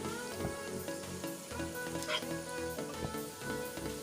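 Onion frying in oil until brown for a Bengali sour lentil dal with raw mango, with garlic and whole cumin in the pan: a steady close sizzle with light stirring scrapes that runs throughout, no voices.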